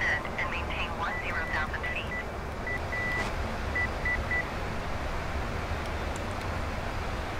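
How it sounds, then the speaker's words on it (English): Cockpit warning beeps in a PMDG 777-300ER airliner in Microsoft Flight Simulator 2020: a run of short, evenly spaced electronic beeps at one steady pitch, sounding over a constant loud broadband roar. "What's that extra beeping noises?"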